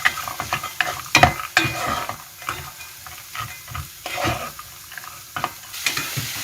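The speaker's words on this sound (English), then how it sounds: "After a few minutes, we add red bean to it and fry again." Red beans fry in a pot for Ghormeh Sabzi stew, with a soft sizzle under irregular scraping and clattering stirring strokes, close and moderately loud, and no talking.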